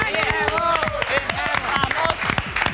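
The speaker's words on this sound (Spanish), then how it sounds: "Y este aplauso, ¿no?" A TV cooking show studio audience claps and cheers loudly while presenters talk and exclaim excitedly over the applause throughout.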